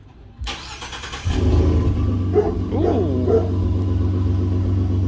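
A truck fitted with a Corsa exhaust starts up and settles into a deep, mellow idle, with a few quick revs rising and falling over the steady rumble, close and loud; one person gives a brief exclamation.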